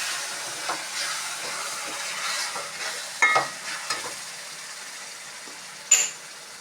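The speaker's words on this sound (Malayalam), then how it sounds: "വിനാഗിരി കുറച്ച് ഒഴിക്കാണ്. തിളച്ച് പോകുന്നുണ്ട്" Vinegar boiling in a pan, a low continuous bubbling hiss with a few sharper clicks and stirring taps, fairly quiet and close.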